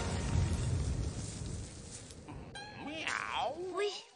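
A character in celestial dog form lets out a voiced, cat-like meow near the end, rising and falling over a dense rumbling backdrop.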